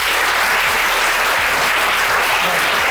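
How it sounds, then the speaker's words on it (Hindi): Students at a motivational talk at VDT Inter College applaud, a loud, continuous wash of clapping throughout the short stretch. "तो इनके लिए तालियां बजाओ।"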